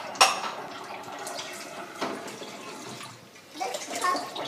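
Running water from a tap rinses a dish at a kitchen sink, a soft steady splash and hiss nearby with a few light clinks of dishware.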